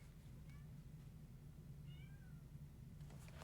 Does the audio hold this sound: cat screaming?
yes